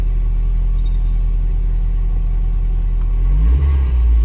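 Volkswagen Golf Mk4 GTI engine idling with a steady low rumble, then a single brief rev rising near the end, close and loud with no talk.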